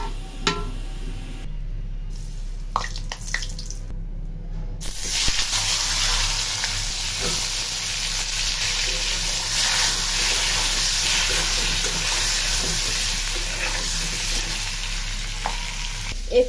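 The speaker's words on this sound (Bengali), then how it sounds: "এখন আমি ডিমটা ফ্রাই করি।" An egg fries in a pan. A sudden bright, loud sizzle starts after a few quiet seconds and then holds steady and close, with occasional small crackles.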